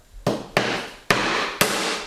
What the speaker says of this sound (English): I'll go to the center of my roll and I tack it down.